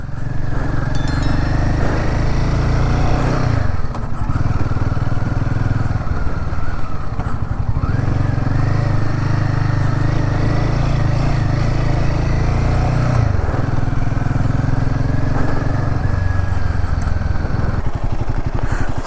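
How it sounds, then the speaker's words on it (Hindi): Motorbikes on a Ladakh tour ride through loose sand near Pangong, engines droning loud and steady with revs rising and falling as the wheels slip, close and continuous throughout. "ये आगे सारी सैंड है, इसमें हमारी बाइक्स कैसे स्लिप हो रही हैं"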